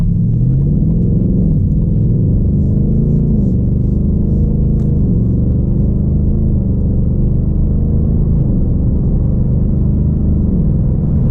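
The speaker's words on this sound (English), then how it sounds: "I love the way this thing goes through the gears." A 2021 Ford Mustang Mach 1 in Sport Plus mode accelerates at light throttle, its V8 a loud, steady rumble from inside the cabin as it pulls smoothly through several gear changes.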